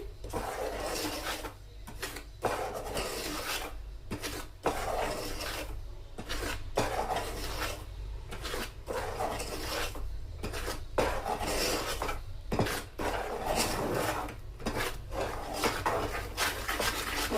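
Cake batter is stirred in a bowl for a stovetop Christmas cake, producing steady, close scraping and rubbing strokes in a repeating rhythm, broken by brief pauses, with no talking.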